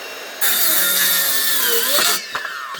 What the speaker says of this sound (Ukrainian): Тепер продовжуємо цю саму доску різати е, макітовською.